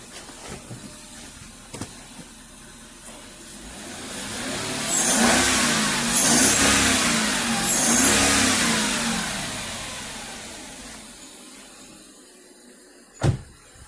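A Mercedes S430 W220 V8 revs several times after its first start-up following years of sitting, the blips rising and falling up close, then settling back toward idle before a sharp click at the end.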